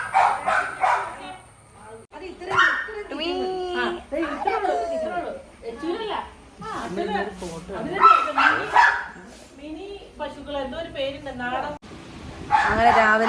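Dogs at a home bark and yip in short bursts, with whimpering and whining mixed in, close by and under near-continuous overlapping human talk throughout.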